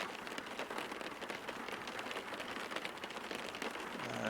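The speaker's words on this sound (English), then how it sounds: "and then we're going to go for stormy weather." Stormy-weather rain in the X-Plane 11 flight simulator hisses as a thick, even downpour, faint and continuous, with a low rumble creeping in toward the end.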